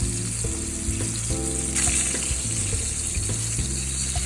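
A bone-in striploin steak sizzles loudly in a hot pan, a steady crackling fry with occasional clicks and scrapes from tongs, no voices.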